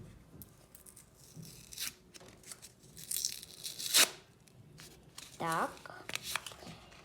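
Crinkly rustling and tearing of a paper packet being opened, in several short bursts, close up, with soft voices in between.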